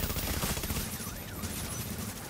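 Rapid turret gunfire in a video game, a short fast burst of repeated shots over a dense, busy background.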